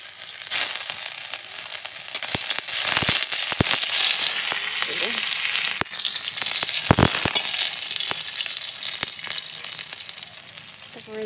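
Ginger and panch phoron spices sizzle and crackle steadily in hot oil in a home kitchen, a bright continuous hiss punctuated by sharp pops and a few louder spits.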